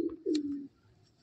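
A Madrasi pigeon, a male bird kept for breeding, gives a short close-up coo, one low rolling phrase with a quick soft lead-in, then fades into quiet room noise.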